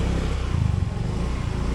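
A motorcycle carrying a heavy load revs its engine up close, a loud, steady throbbing drone with rough pulsing that continues throughout, with no talk over it.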